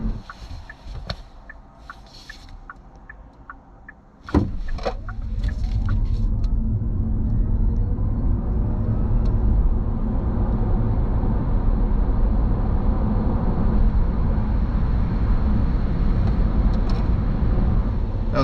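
A 2025 Hyundai Inster (Casper EV) electric car accelerates hard from standstill to 100 km/h: after a few seconds of light clicks, a sudden jump into a steady, loud rolling rumble of road and tyre noise that holds to the end, with no voices.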